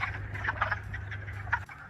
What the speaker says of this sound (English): Those calling are wood frogs.